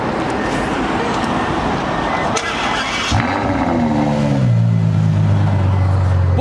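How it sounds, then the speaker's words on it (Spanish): A modified Lamborghini fitted with an aftermarket exhaust and downpipe, at a luxury workshop in Miami, lets out a loud engine note partway through, the pitch sweeping steadily over constant roadside noise. "vos viste que acelera un Lambo"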